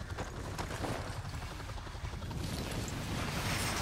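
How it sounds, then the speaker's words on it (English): A steady, loud rotor roar with rumbling low end fills the whole stretch, a helicopter hovering close by in Call of Duty Remastered. "We're here, this loud ass helicopter."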